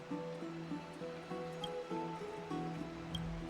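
Gentle flowing water from the game Honkai Star Rail, a soft continuous wash like surf or a stream with tonal ambient music layered over it, steady and moderately quiet throughout.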